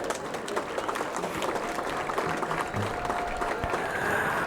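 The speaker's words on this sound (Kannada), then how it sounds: "40 ತಂಡಗಳ ಚಪ್ಪಾಳೆ ಹೇಗಿರಬೇಕು" Forty police teams applaud at the closing ceremony of a state police sports meet, a broad crowd of clapping that runs continuously and swells slightly toward the end.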